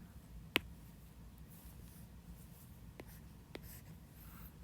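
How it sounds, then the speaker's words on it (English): A pen writes on paper while someone works a physics practice quiz, giving one sharp scratch followed by a couple of light strokes, faint and close in a quiet room. "So I'm going to go ahead and write that in."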